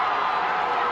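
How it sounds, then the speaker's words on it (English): Basketball game crowd in a gym cheering, a dense continuous roar of many voices, loud and sustained for a brief moment. "Crowd goes crazy."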